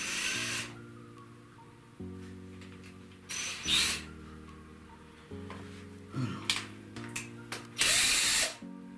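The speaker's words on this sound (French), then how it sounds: "On va visser un peu." A small power screwdriver or drill tightening a bolt on an Arrma Typhon 1/8 3S RC car: several short whirring bursts of a buzzing motor, separated by pauses with clicks and handling noises, close by.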